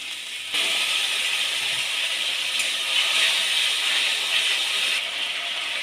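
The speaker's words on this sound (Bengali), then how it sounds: "হালকা কষানো হয়ে গেছে এবার আমি জল দিয়ে দেবো" Water poured into a pan of lightly sautéed spices for a gluten kosha bursts into a loud, sudden hissing sizzle that holds steady for several seconds, then eases slightly.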